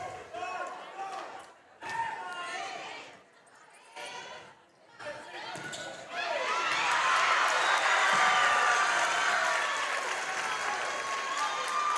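Crowd at a high school volleyball match between STC and Montezuma erupts into loud, sustained cheering and applause after a missed shot, rising suddenly midway and holding steady to the end, following commentary-like talk.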